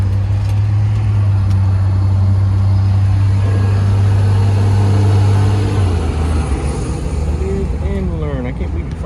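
A 1969 MG GT engine cranks over and runs, a steady low idle drone lasting most of the clip before shifting and settling, while people talk over it nearby.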